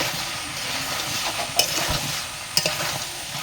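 Vegetables and prawns fry together in a pan for a village-style home-cooked dish, giving a steady, close sizzle with stirring and two sharp clinks of a utensil against the pan.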